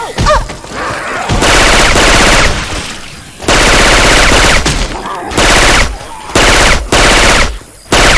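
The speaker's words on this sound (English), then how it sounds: "Stop shooting each other." Rapid automatic gunfire in Left 4 Dead 2 using Syphon Filter weapon sound effects: loud, dense bursts of several seconds each, separated by short pauses with faint game voices between them.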